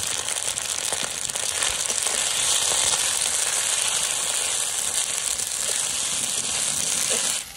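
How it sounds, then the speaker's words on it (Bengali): Onions sizzling and frying in hot oil in a pan while cooking khichuri and kosha mangsho on a rainy day, a steady dense crackle holding close and loud throughout with no voices. "একটু লাল লাল করে ভেজে দিচ্ছি"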